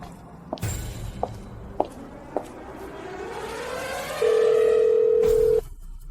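A phone is being dialed to call a cousin: a few sharp clicks and taps, then a rising electronic sweep that settles into a loud, steady tone held for over a second before it cuts off.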